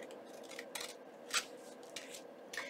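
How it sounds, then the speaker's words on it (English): Scissors trim paper for a junk journal page, giving a few faint, crisp snips and soft paper rustles spaced irregularly in a quiet room. "I'm just going to trim this as well"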